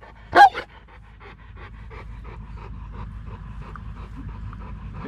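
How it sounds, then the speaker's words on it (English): A dog on a riverside sea-fishing outing gives one sharp bark near the start, then pants steadily and rhythmically close by, with a low outdoor rumble underneath. "You're never this normally barky, are you?"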